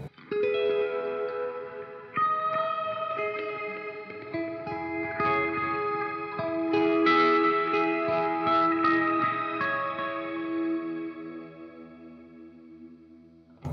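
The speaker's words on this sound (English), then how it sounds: "it'll put a phaser delay reverb on it." A 1970 Gibson Les Paul electric guitar through Mothership effects plays chords that ring out with swirling phaser, echoing delay and wide reverb, sustained and layered, played alone without any voices.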